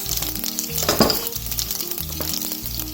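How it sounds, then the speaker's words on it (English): Mustard and cumin seeds fry in hot oil for Indian mor kuzhambu, giving a steady close sizzle with scattered pops and crackles throughout. "so we have the oil heated up. Along with this, the same kind of thing, some mustard seeds, some cumin seeds"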